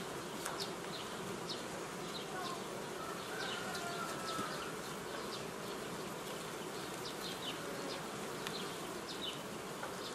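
Honey bees buzz steadily around a hive nucleus at a beekeeping apiary, a soft dense drone with individual bees zipping close by now and then.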